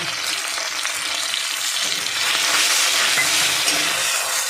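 Grated potato fries in a pan with a loud, steady sizzle that swells partway through, and occasional stirring can be heard.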